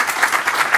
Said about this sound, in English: You can applaud him.